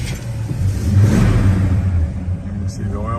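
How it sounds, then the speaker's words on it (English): A 1970 Chevrolet El Camino's V8 cranks and catches into a loud, deep idling rumble that swells briefly before settling, with a person talking over it nearby. "So we're going to start up our 70 El Camino here for you."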